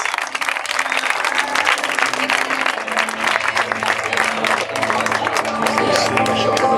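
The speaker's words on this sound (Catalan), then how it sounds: "Un fort aplaudiment per aquests participants en aquesta qual·ló per equips." Crowd at a popular aquathlon race in Blanes applauding team participants, loud sustained clapping and some cheering outdoors, with a steady hum underneath throughout.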